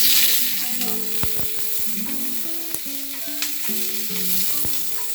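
Whole tomatoes sizzle in a hot pan, a steady close frying hiss broken by sharp pops and clinks of stirring.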